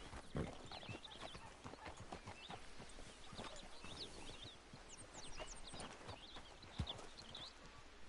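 Horse hooves in a PS4 video game clop along at a relaxed walking rhythm, close by and continuous, with faint birdsong and a brief snort in the background.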